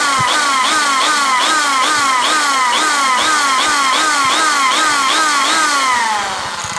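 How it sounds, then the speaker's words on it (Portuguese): An electric drill fitted with a thin 3 mm bit bores through material during a homemade articulated tractor build, its motor whining loudly and steadily with a rapid, regular wavering pitch. It sounds close up throughout, with no talk. "Primeiro eu furo com essa broquinha fina aqui, ó. Ó, essa broquinha aqui, ó, de 3 milímetros."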